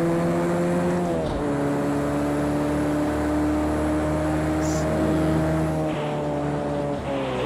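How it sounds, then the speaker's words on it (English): Car engine in Project Cars 2 on a snowy Red Bull Ring track, a loud steady multi-tone drone with gear-shift dips as the tires lose traction and skid across snow, running continuously without talk. "you can hear my tires losing traction and actually skidding across the snow"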